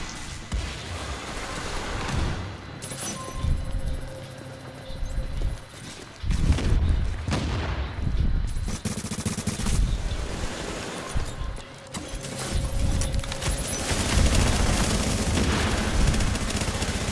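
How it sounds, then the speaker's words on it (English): Gunfire and grenade blasts in the video game Tom Clancy's The Division, a dense, loud barrage of repeated shots and booming explosions across the whole stretch, with no talk. "Oh, what the goddamn nade spam."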